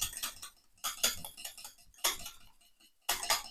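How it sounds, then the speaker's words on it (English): A hand whisk beats a vanilla mixture in a container, producing four separate bursts of quick metallic clicking and tapping with brief pauses between them, close and fairly quiet. "The whisk."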